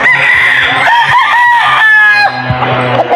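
Chickens at a breeding farm crow and cluck up close, a rooster's drawn-out call rising over steady clucking and scattered squawks in a short, loud burst.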